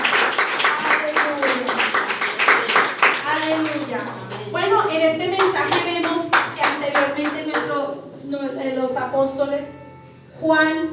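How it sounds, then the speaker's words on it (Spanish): A church congregation claps its hands steadily and rhythmically during a Spanish-language service, with voices speaking and singing over the clapping. "A ti te ofrendamos este aplauso, Señor, y toda honra y toda gloria."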